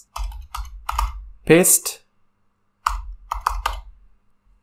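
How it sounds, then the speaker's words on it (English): Keys clacking on a computer keyboard as a command is typed, in quick close bursts of clicks separated by pauses, with someone briefly speaking in between. "I'm actually going to type a command"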